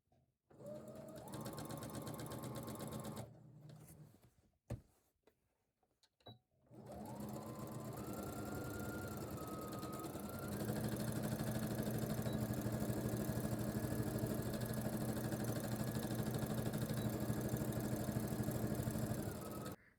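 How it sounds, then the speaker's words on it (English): Sewing machine darns fabric back and forth in a grid pattern, running in a fast, steady mechanical whir that stops and restarts, then continues loudly for a long stretch; no talking. "You're basically just darning it with the machine."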